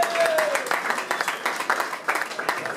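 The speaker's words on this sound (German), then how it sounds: "Und Applaus her" Scattered clapping and applause from a small crowd celebrating FC Luzern's win, with a voice talking over it near the start.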